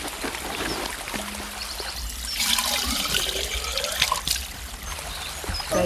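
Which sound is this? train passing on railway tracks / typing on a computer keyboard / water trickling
water trickling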